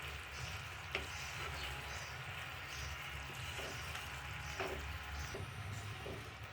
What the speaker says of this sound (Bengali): সব দিয়ে ভালো মতো মিশিয়ে নেওয়া হবে।